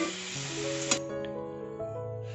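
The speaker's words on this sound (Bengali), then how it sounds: "ওই তেলে এবার আমি ফুলকপিগুলো ভেজে নেব।" Cauliflower florets fry in hot oil in a pan, giving a loud, steady sizzle that runs throughout with slight crackling shifts and no talking.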